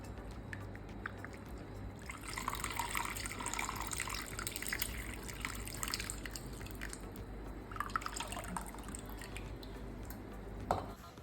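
Water being added to soaked tamarind and squeezed by hand for juice, a wet sloshing and dripping that rises in bursts and continues steadily, close and fairly quiet, with no talk.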